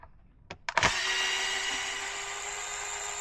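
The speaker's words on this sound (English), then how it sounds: "we're going to take off these 4 center screws." A small electric driver starts after a couple of clicks and whirs steadily while removing the screws from a Losi Sprint 22S RC car wing, close and alone.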